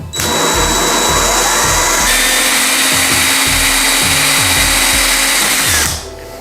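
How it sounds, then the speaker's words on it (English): A power drill whines steadily and loudly for about six seconds, grinding through ceramic tile with a rhythmic pulsing undertone, then stops abruptly. "We'll carry on drilling through the tile now."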